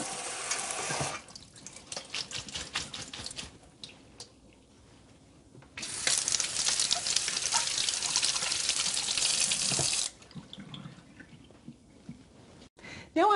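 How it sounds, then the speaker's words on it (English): Cold tap water running over vegetables in a kitchen sink, loud gushing bursts that stop and restart, with quieter gaps of trickling and handling between the streams. "Rinse your vegetables just with cold water."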